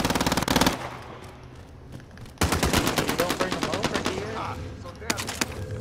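Rapid automatic gunfire from a Warzone Resurgence match comes in dense, loud bursts of rattling shots with short pauses between them, and a player talks over part of it.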